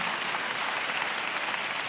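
A church congregation claps steadily in praise, a dense, even wash of many hands that holds for the whole stretch without pause.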